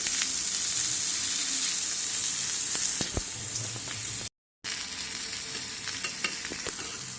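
Fish fries in a pan with only about 2 ml of oil for a 500-gram fish curry, a steady close hiss and sizzle with occasional sharp pops and spatula scrapes. A brief dropout interrupts it near the end.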